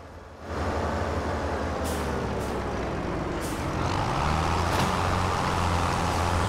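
Baler running in Farming Simulator 25, a steady heavy machine drone with engine rumble and mechanical hiss, continuous throughout with a few brief higher clanks, no talking.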